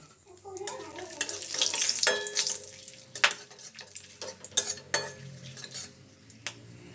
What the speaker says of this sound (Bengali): তেলে আমি গোটা গরম মশলাগুলো খুব ভালোভাবে নাড়াচাড়া দিয়ে নিচ্ছি।